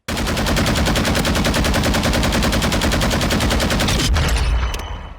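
A sustained burst of rapid automatic fire from a gun with a 50-round magazine in Modern Warfare 2 rattles loud and steady for about four seconds, then cuts off and fades.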